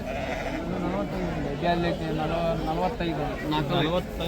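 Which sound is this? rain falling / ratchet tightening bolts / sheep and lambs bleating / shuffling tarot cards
sheep and lambs bleating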